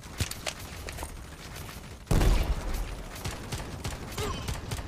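Pistol gunfire from the offline mobile first-person shooter WarStrike sounds as sharp, repeated shots, a few scattered pops followed by a loud burst of rapid firing and some mechanical clicks against faint background noise.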